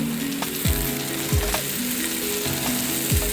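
Chicken masala powder being stirred through a frying pan while preparing chicken curry with ash gourd, with a steady close sizzle of frying under repeated scraping strokes of a spoon roughly every second; no voices.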